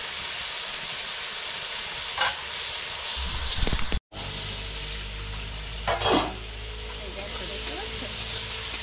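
Masala for parshe fish curry sautés in a pan, a loud hissing sizzle with occasional stirring scrapes, broken by a brief cut partway through.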